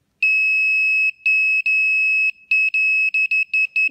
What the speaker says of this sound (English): We need to move the sensor around until the beeping stops.